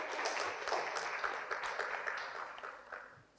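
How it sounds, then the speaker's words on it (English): A workshop audience at a conference applauding, a dense wash of many hands clapping at once, fairly loud at first and gradually thinning out over a few seconds. "Give yourselves a round of applause."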